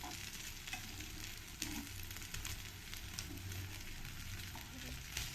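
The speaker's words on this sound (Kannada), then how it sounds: "ನೋಡಿ ಎಷ್ಟು ನೀಟಾಗಿ ಫ್ರೈ ಆಗಿದೆ" Carrot cutlets frying in a pan, a steady close sizzle with crackling oil spatter running throughout, no talk.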